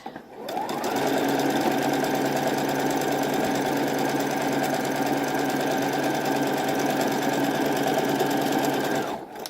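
Sewing machine stitching a seam on a girl's Civil War era dress, one continuous close whirring run of about nine seconds that starts and stops abruptly, with no talk.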